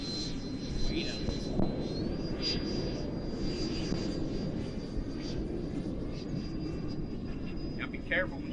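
A Freewing F-15 RC jet flying on a windy day, a continuous whining ducted-fan roar with a steady high tone holding throughout, loud and close, with wind noise underneath.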